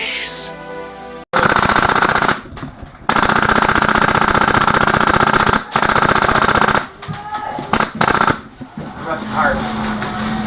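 An airsoft light machine gun fires long, loud rapid bursts at a game event, with short pauses and people talking between them.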